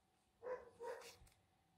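A small female dog indoors gives two quick barks, a short pause between them, fairly faint against a quiet room, likely reacting to a neighbor outside.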